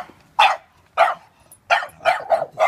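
A neurotic, highly reactive dog named Benson barks five times, sharp and close, in an irregular rhythm with short quiet gaps between the first barks and a quicker run at the end.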